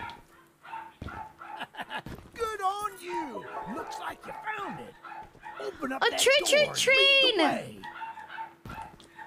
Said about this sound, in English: I wonder why my dogs bark so much.